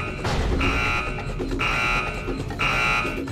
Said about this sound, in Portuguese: era só um alarme.